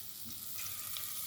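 Onions fry in a pan with a soft, steady sizzle and hiss, quiet and close with no talking.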